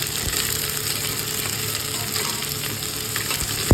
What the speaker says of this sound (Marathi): याला फ्राय करू. थोडासा लालसर करूया.